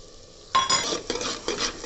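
Shallots and green chillies sautéing in a pan for potato podimas, a sudden burst of sizzle after a quiet start, with spatula scrapes and clinks against the metal.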